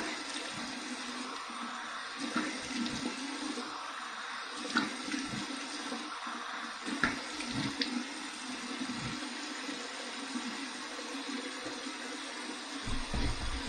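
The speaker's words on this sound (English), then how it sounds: "All right, cold water rinse." Tap water runs steadily from a bathroom faucet into a sink for a cold rinse after a shave, a continuous close splashing wash with a few louder splashes of water being scooped up.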